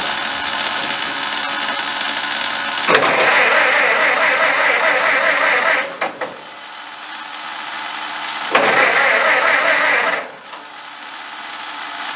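A reinstalled car engine cranked with the key: two bursts of whirring starter-motor cranking, each about three seconds long and separated by a pause, loud and close, with a steady low hum underneath.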